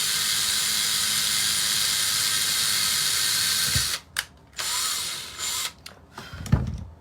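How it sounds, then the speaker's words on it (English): A power drill bores into a faux vintage bobbin, a steady loud whine for several seconds that then breaks into short stop-start bursts and a few clunks as it is handled. No voices. "Drill with it on the stick."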